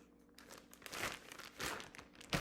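A large plastic Ziploc bag crinkling as it is handled, several quiet, crackly bursts of rustling close by, growing louder toward the end.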